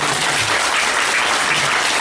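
Dense, steady applause from an audience clapping hard, a continuous wash of many hands striking together, loud and close throughout without any voices over it.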